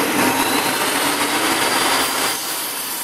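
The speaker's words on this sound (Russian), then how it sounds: "Отпилим и снова замеряем." A saw cuts through a piece of plywood, making a continuous rasping hiss that stays close and loud before easing slightly near the end.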